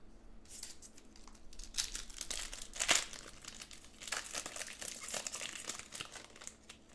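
A trading card booster pack wrapper from Ravnica Remastered torn open by hand, with close crinkling foil, a sharp rip midway and continued rustling and crumpling afterward, no talking.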